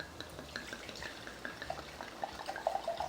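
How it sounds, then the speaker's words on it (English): Red wine diluted with water is poured into a pot of rabbit stew with rosemary and bay leaves, producing a quiet, close splashing trickle with a few bubbly drips toward the end. "I diluted the 1 cup of wine with 1 cup of water. I'm going to add that."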